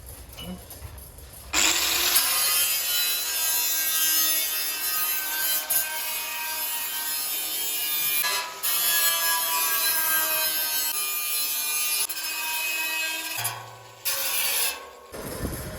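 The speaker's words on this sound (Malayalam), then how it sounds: "അപ്പോൾ അതങ്ങ് ഗ്രൈൻഡ് ചെയ്ത് കളയണം." Power grinder working along the rough cut edges of wood pieces for a handmade barrel chair, a loud steady abrasive whine sustained for over ten seconds with brief dips as the tool shifts, no talking.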